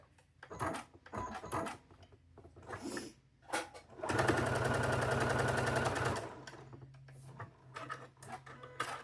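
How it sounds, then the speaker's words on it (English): A sewing machine runs steadily for about two seconds, stitching across a diagonal line on a quilt block of farm chickens, a dense rapid whir standing alone amid quieter handling noises before and after. "Going to sew across that diagonal."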